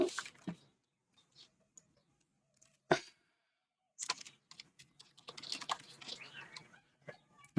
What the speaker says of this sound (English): I can't type on this little keyboard.